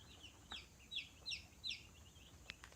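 Chicks in a garage brooder peep and cluck in a few short, bright bursts, fairly faint and alone, with a soft clicking near the end.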